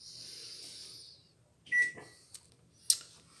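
A microwave oven runs at 600 watts, heating a milk, cornstarch and vanilla mixture: a steady hum and fan whir, then a short electronic beep and a couple of light clunks near the end.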